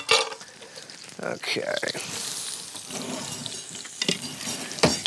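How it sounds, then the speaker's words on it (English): Onions sauteing in a pan until translucent, with a soft steady sizzle and frying crackle, broken by stirring scrapes and clatters, while a person speaks briefly. "What I'm going to kind of do is let them saute till they're like translucent."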